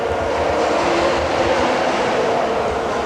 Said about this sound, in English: This train is bound for Frankfurt